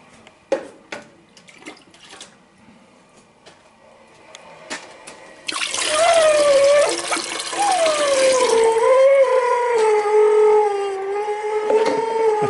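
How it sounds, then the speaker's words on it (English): Water heating and percolating in an old coffee pot, starting with a few scattered taps and clinks, then a loud, continuous gurgling, bubbling rush with a wavering whistle-like tone that carries on to the end. "Get that percolating."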